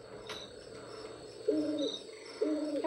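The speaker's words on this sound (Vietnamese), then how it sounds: "các bạn nghe không, tiếng chim kêu đồ" Owl-like hoots from a bird calling outdoors, two distinct hoot phrases in the second half over a faint background with insect chirping.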